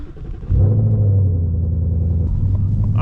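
Ford Mustang engine cold starting from inside the car, a brief starter whir then a loud, close engine catching into a steady deep rumbling idle.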